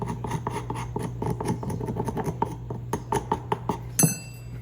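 Old glue scraped off a piece of furniture in repeated short rasping strokes with a steady rhythm over a constant low background hum, close by with no voices.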